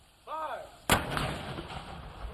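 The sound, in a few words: ceremonial cannon firing at American Freedom Museum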